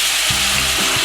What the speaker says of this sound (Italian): Sfumiamo con il vino bianco